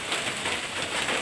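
Heavy rain pours steadily on the surroundings in a continuous broadband hiss with no distinct drops, close and even in loudness throughout, with no voices.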